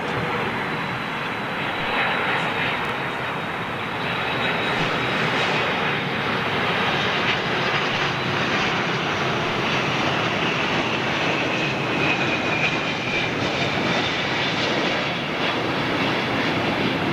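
A Delta jet airliner landing at London Heathrow roars steadily on its rollout, a broad, sustained engine rumble and whine heard from a distance that holds strong throughout.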